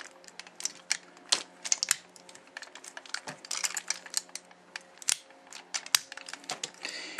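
Plastic pieces of an MP-04 Optimus Prime transforming toy are folded down, giving a rapid, irregular run of sharp clicks and snaps close to the mic, with no voices.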